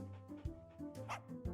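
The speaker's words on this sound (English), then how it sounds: "I'll pet my puppy." A puppy gives a couple of short, yappy barks and yips in a small indoor room, close and fairly loud, with whimpery harmonic tones between them.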